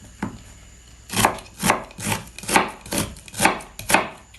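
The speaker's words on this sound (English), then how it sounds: "while I chop up the onion and start the soup" A knife chops an onion on a cutting board in a kitchen for spinach and watercress soup, making seven or so evenly spaced, crisp thuds that are close and clear, with no talking.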